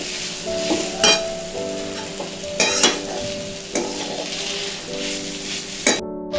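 A spoon stirs a coconut and mawa filling for Diwali ghughra in a pan, with repeated scraping strokes over a soft sizzle. Tonal clinks ring out at intervals, and a louder scrape comes at the close.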